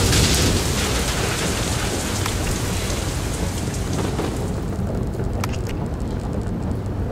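A hail storm with thunder in the Far Lone Sails video game: a dense, loud, continuous hiss of pounding ice and rain with low rumbling throughout, fading slightly in the last seconds, with no talk.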